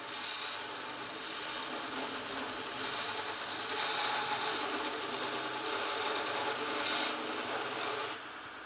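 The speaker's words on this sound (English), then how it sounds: "let's see how the sander performs. Okay, here's mild speed." A Vevor 30x1 belt sander runs at mild speed, grinding roughly half-inch thick steel with a steady bright abrasive rasp that swells slightly midway and drops off near the end, close and alone.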